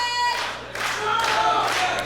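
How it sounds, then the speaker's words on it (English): A wrestling crowd at a SHINE Wrestling event cheers and shouts in a loud, sustained wash of voices that swells in the second half. "The crowd getting behind Chif as the former Shiver champ back to her feet"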